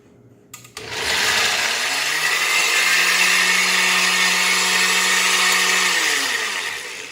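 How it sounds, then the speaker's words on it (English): After a brief click, a kitchen blender whirs into a loud, steady roar as it blends shrimp and onion. It runs continuously for several seconds before winding down. "the shrimps and the onion are like really heavy for the blender"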